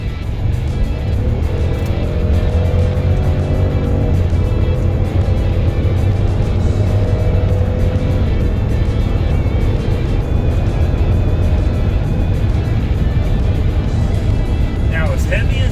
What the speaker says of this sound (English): I'm gonna nail the gas, and we can see how much power this thing has.